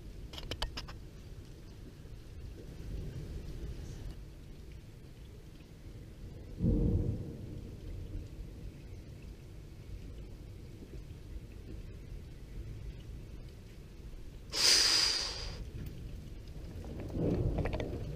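Thunder from a nearby lightning strike roughly 400 metres off during a strong multicell storm in Tour-en-Sologne, Loir-et-Cher: several loud booming cracks and rumbles stand out against a steady background of rain.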